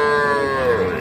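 A Friesian bull calf about two to two and a half months old lets out a single loud, drawn-out moo at a village cattle market, close by and clear.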